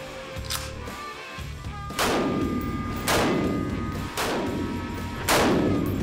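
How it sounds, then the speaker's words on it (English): Gunshots from a Ruger Mini 14 rifle: four loud, booming reports about a second apart, each trailing off in a long echo, with a quieter lead-in before the first, no talking. "This is a Ruger Mini 14."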